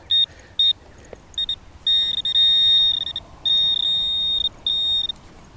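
A metal detector gives electronic beeping tones over a lead target, some short and some held for a second or more, in an irregular pattern, clear and close.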